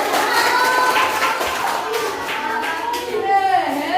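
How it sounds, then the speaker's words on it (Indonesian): A primary-school class applauds together at a teacher's prompt. The clapping is steady and dense for about four seconds, with children's voices mixed in. "Oke, tepuk tangan dulu."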